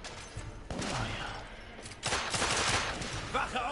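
Bursts of rapid gunfire in The Order: 1886 on PS4 crackle in loud clusters, with a short lull before a second heavier volley and faint voices mixed in.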